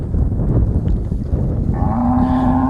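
Cattle moo during a cattle drive, one long drawn-out low call rising out of a dense, noisy herd background, fairly close and loud with no talk over it.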